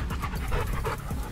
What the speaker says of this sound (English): It's my dog. So hardly had a swim in the river.